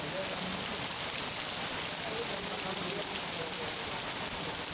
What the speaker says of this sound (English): even though it hurts to go out in the hail.